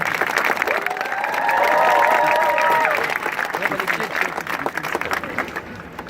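A crowd at a synagogue prayer vigil cheers and applauds steadily for several seconds, loud and sustained with a swell in the middle before tapering off.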